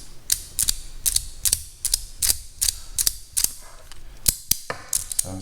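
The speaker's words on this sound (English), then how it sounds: "So this is the Stix from FidgetBoy." A FidgetBoy Stix magnetic fidget slider being slid back and forth, giving a steady series of sharp, close clicking snaps with brief metallic ratcheting in between, about two per second, with no talk.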